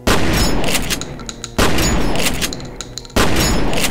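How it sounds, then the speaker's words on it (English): Nail shotgun from the Project MSX mod for Doom 2, replacing the super shotgun: three loud, evenly spaced blasts, each with a sharp attack and a decaying metallic tail with rattling clicks. "We also have the nail shotgun. This replaces the super shotgun."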